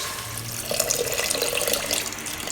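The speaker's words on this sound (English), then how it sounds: "We just pour everything in. You need to add water." Water pours from a tap into a pot holding pork ribs and broth, a steady close splashing rush that grows fuller partway through, with no talk.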